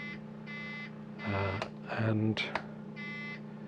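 Indicator buzzer wired to the electronic flasher unit of a Daimler Dart SP250 with LED indicators, buzzing in short regular pulses, with someone talking briefly in between.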